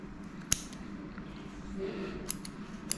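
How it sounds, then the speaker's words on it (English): Scissors snip through matted fur near a neglected dog's tail during grooming, giving a few sharp, close clicks spread across the moment over a low background hum. "And then scissors again."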